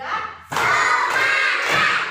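A group of people claps in unison to a counted clapping pattern, with loud, dense bursts of claps following a brief quieter moment.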